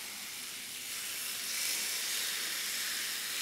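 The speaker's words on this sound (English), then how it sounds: "Listen for the sizzle." Steady, bright sizzling hiss of tandoori-style chicken frying skin side down in a hot pan, rising slightly and holding continuous with no voices.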